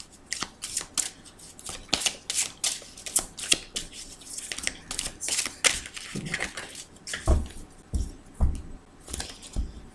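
Tarot cards are shuffled and cut by hand: a rapid run of crisp riffling and slapping clicks, close and fairly quiet, continuing steadily with no speech.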